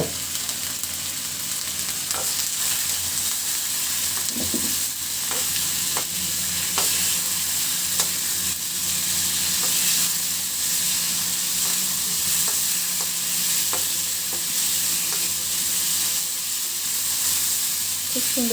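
Boiled eggs frying in oil in a pan, a loud continuous sizzle and hiss with occasional soft scraping taps of stirring.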